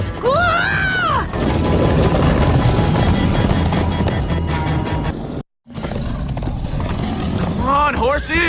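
Horses galloping in Minecraft: Story Mode, a dense rapid clatter of hooves under excited shouting voices and game sounds, cut by a brief silent gap before the galloping resumes.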